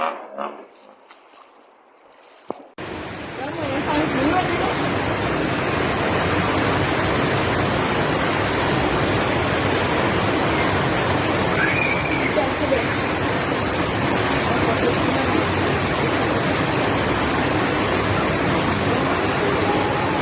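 Heavy tropical rain and rushing floodwater in Jamaica during Tropical Storm Ian, a broad, loud, continuous roar that kicks in abruptly after a few seconds of quieter room sound and holds unbroken for the rest.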